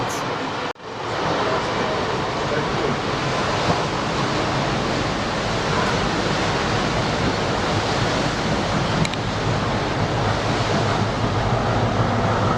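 Steady, loud roar of surf crashing against the sea wall at Dawlish beside the railway line, with continuous broadband wash, a brief dip near the start, no voices.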